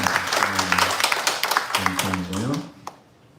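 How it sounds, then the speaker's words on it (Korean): Congregation applauding during a church worship service, a scattered patter of clapping with a voice talking over most of it before fading. "박수 감사합니다."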